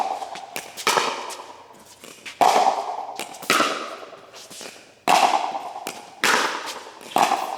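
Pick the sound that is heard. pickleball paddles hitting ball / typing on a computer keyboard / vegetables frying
pickleball paddles hitting ball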